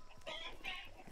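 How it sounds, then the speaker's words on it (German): Chickens clucking in the video game Hunt: Showdown, a couple of short bursts of bright, busy clucks close by over a low game-world background. "Oh, die Hühner, ey."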